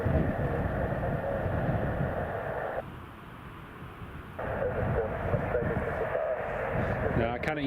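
A Ryanair airliner approaches during a storm, its engines a broad, steady roar mixed with gusting wind, dipping briefly in the middle before returning at full strength.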